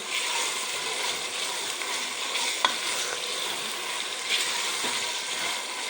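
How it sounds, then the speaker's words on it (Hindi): Coriander and a green chilli are stirred into a dish frying in ghee, a steady sizzle broken by a couple of sharp spoon scrapes and clinks, with no voices. "तो अब मैं ये धनिया और एक ही हरी मिर्च थी वो मैं इसमें डाल देती हूँ, मिक्स कर लूँगी"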